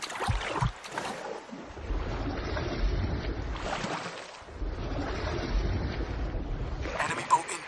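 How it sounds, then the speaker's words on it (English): An enemy boat in a video game passes by with a broad, rushing surge of engine and water noise that swells and fades, mixed with wind and a few faint voices. "Enemy boat inbound."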